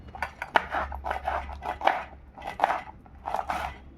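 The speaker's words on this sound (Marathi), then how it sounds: "मिरच्या चिरून घेते आता खिचडीला." Quick knife chops through green chillies on a cutting board, a steady run of crisp, close taps with short pauses between bursts.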